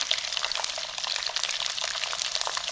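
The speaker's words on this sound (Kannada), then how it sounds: "ಇದನ್ನು ಚೆನ್ನಾಗಿ ಎಣ್ಣೆಯಲ್ಲಿ ಫ್ರೈ ಮಾಡ್ಕೊಂಬಿಡಿ." Curry leaves and peeled garlic frying in hot oil for tomato gojju, a steady bright crackling sizzle with scattered pops, close and continuous with no voices.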